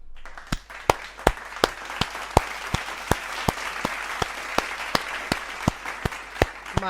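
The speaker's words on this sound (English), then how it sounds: "we need to give a little clap" Hands clap slowly and evenly, about eighteen sharp, separate claps spaced under half a second apart, close and clear over a quiet background.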